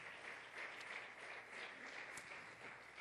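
A church congregation claps during a Sunday service, steady continuous applause at a distance, fairly faint and even.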